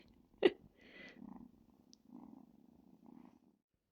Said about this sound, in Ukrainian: Чуєте, як він мурчить?